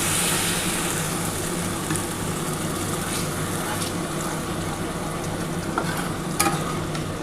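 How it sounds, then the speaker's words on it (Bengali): Spiced water goes into frying masala for a Bengali katla fish kosha, giving a dense, steady close sizzle with occasional stirring clicks and no voices. "এবার যে মশলার জলটা আছে সেই জলটা দিয়ে দিচ্ছি"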